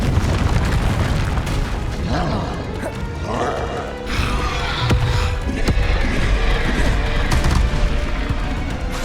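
Confringo spell blasts in the Hogwarts Legacy video game: loud booming explosive bursts and crackling impacts mixed with dense game effects and music throughout, with occasional voice.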